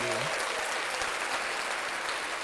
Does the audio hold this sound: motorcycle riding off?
no